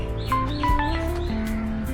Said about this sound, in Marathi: इकडे खूप सारे पक्षी आहेत